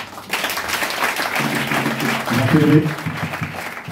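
Congregation at a Pentecost worship service applauding and cheering to acclaim God, a broad steady wash of clapping with voices rising and a louder swell near the middle.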